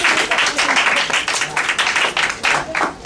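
A small audience at a children's history event claps in an uneven, pulsing rhythm, with separate bursts of hands standing out.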